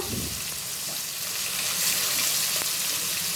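Hilsa fish frying lightly in oil in a pan, a steady close hiss of sizzling with soft crackles throughout, no voices.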